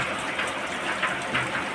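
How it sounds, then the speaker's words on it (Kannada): Steady hiss of heavy rain pours down continuously in North Karnataka, a dense wash of falling water with no voices, moderately loud and unbroken. "ಫುಲ್ಲು ಮಳೆ ಆಗ್ತಾಯಿದೆ ಹೊರಗಡೆ"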